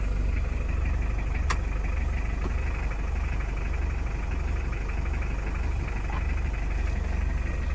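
Toyota Corolla 20D diesel saloon idling with the air conditioning running, a steady low rumble and broadband whir holding constant throughout, with a couple of faint clicks.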